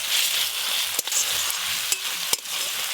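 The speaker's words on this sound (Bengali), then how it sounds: "পেঁয়াজ কুচি আর রসুন বাটা একসঙ্গে ভেজে নিয়েছি।" Chopped onion and garlic paste fry in a pan with a steady hiss of sizzling, broken by a few sharp clacks of a spoon against the vessel, no talking.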